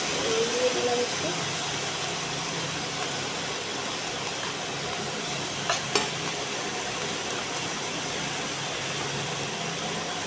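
Mustard greens frying in hot mustard oil with mustard seed tempering, a steady broadband sizzle under occasional stirring clinks, continuous and fairly close.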